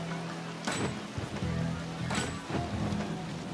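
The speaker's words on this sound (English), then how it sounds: "There are some impressive crowds here today, despite the rain you can see coming down." Rain pours steadily onto the race track in the VR46 motorcycle racing game, a constant broadband hiss, with two brief louder swells that sound like engine or crowd bursts.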